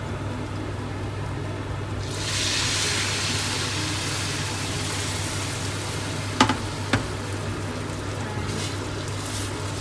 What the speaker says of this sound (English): So I'm adding the sugar syrup to it now.